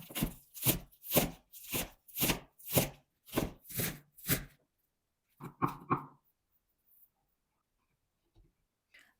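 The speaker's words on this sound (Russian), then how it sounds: "Затем нарезаю зеленый лук." Green onions, about 200 grams, chopped with a knife for Turkish spinach-and-cheese börek: a run of nine sharp, evenly spaced blade strikes on a cutting board, then a few quicker chops and silence.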